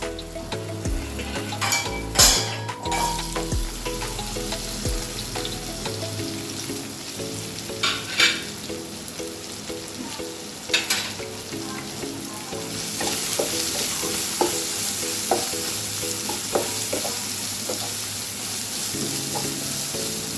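Sliced onion sizzles in a pan with ginger for a cabbage curry. A spoon scrapes and stirs it near the start, then a steady close frying hiss continues and grows louder and brighter toward the end.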